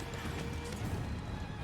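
A horse galloping in a Dynasty Warriors-style game played as Liu Bei, its steady clip-clop hoofbeats under a dense, continuous wash of battle noise.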